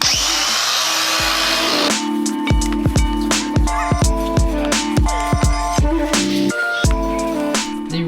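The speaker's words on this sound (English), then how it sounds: "The rapid strip wheel is doing an amazing job" An angle grinder fitted with a rapid strip wheel strips paint off the metal of a BMW E30 M Tech II subframe, a loud close whine broken into repeated gritty bursts as the wheel is pressed on and lifted.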